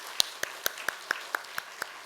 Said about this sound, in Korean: 우리 찬양대 위해서 다시 한번 격려의 박수 올려드리겠습니다